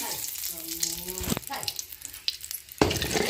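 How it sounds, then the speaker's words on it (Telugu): Tempering seeds for upma crackle and sizzle in hot oil in short bursts, with a brief clatter and some faint background voice. "తాలింపు గింజలు వేసుకున్నాం"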